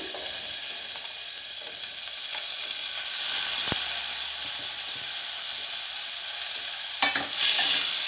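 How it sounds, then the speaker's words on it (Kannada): Cumin seeds splutter and sizzle in hot oil in an Indian home kitchen, a steady bright hiss with faint pops and one sharper crackle flaring near the end, with no voices. "ಜೀರಿಗೆ ಸಿಡಿತಾ ಇದೆ"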